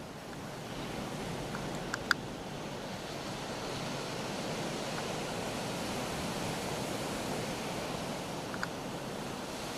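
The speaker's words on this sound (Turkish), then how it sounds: "Gördüğünüz gibi Karadeniz yine coşuyor." Black Sea surf surges steadily at Karasu, a continuous broad wash of waves and wind that stays faint and even throughout, with a couple of small clicks along the way.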